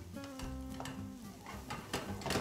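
A soffritto of carrot, celery, onion and garlic sizzles in a pan as it is stirred, with close frying hiss, utensil scrapes and clinks against the pan, and a brief tonal ring early on, no speech.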